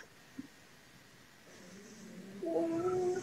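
A cat meows once, faint and drawn out with a rising, wavering pitch, heard near the end against the quiet background hiss of an online video call.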